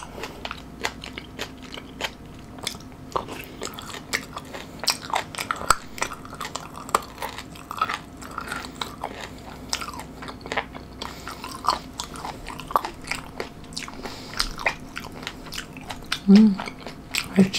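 Close-miked chewing of fermented skate with napa cabbage kimchi and boiled pork, a string of wet crunches, bites and soft mouth clicks at an irregular pace, fairly quiet, with a faint clink of cutlery near the end.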